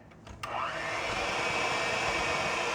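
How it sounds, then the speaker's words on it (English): An electric hand mixer beats sugar with egg for apple cake batter, starting after a few clicks and settling into a loud, steady whir that runs continuously to the end. "And we're going to beat this really good with a mixer"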